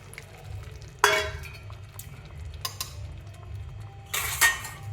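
Water poured into paneer masala frying in a pan, with a loud burst of hissing sizzle that returns a few seconds later, spoon clinks on the pan, and a quieter steady sizzle between the bursts.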